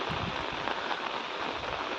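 Steady rain pours over a village in Sambalpur, a dense even hiss of drops hitting surfaces that fills the whole stretch without a break, close and continuous with no voices.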